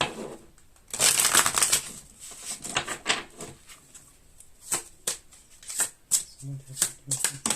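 Tarot cards being shuffled in a run of crisp riffling and flicking bursts, with scattered softer card shuffles and a voice speaking briefly toward the end.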